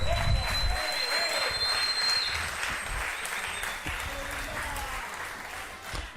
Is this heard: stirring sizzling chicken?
no